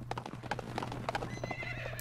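Horse hoofbeats clip-clop in a steady galloping rhythm with repeated whinnies and neighs, from the video game Shantae and the Pirate's Curse, set over a constant low musical hum.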